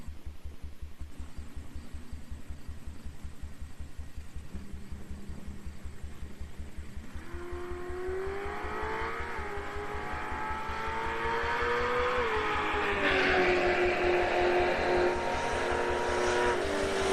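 Drag race at a raceway as a Nova and an Audi launch and accelerate hard, engine roar rising and building through the run, loud and sustained, over a steady low rhythmic idle throb at the start.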